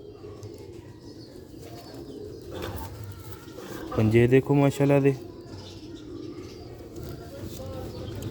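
Sialkoti pigeons give a short burst of throaty, rhythmic cooing in the middle, with someone talking before and after the calls.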